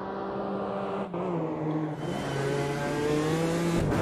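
A BMW M4 GT4 in a racing sim at Laguna Seca accelerates hard, its engine note rising through the gears with two brief dips at the shifts, loud and close, with no talk over it.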